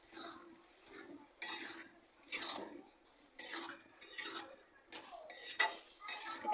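Ghugni is stirred and sautéed in a pan, a spoon scraping and clinking against the metal in a series of distinct, moderately loud strokes with short pauses between them, close by and with no voices.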